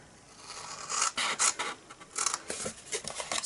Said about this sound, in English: all we're going to do is cut up